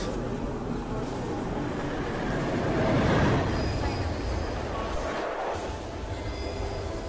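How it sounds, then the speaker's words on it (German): Train pulling into a platform in Hitman Absolution, a steady loud rumble of rail car and wheel noise with a swell around the midpoint, heard under game ambience. "der auf Gleis A einfahrende Zug"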